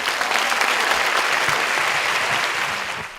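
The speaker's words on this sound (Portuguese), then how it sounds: "De pé, a plateia se despede de Ailton e Geni com uma salva de palmas." A standing audience applauds as the speakers depart at a Sesc talk event, steady dense clapping filling the whole stretch at full strength before easing slightly at the very end.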